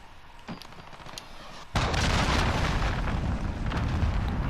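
A cruise missile strike lands in Call of Duty: Modern Warfare 2019 multiplayer, one sudden heavy boom that swells into a sustained, roaring rumble. It stays fairly low in level, with faint battlefield noise before the impact.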